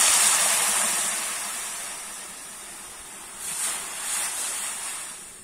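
Water poured into a pan of sugar on a lit stove for syrup, a broad hissing rush that starts loud, fades, then swells again in short bursts.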